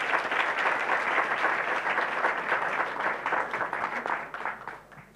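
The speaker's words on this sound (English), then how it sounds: "on peut l'applaudir" An audience at a French lecture on the ethnic cleansing of Palestine applauds a translator, dense steady clapping that holds loud for several seconds before thinning and fading out at the end.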